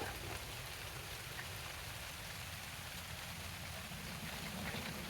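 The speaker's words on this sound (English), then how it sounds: "It's just a peaceful sound though. It's falling on the trees" Steady rain falls on the trees along a forest trail, a dense, even patter and hiss that continues without a break, soft and enveloping.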